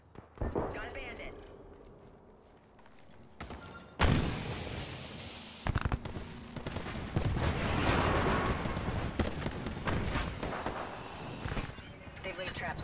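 Bursts of gunfire and sharp shots in the video game Apex Legends, starting sparse and then growing into a steady barrage, with people talking over the shooting.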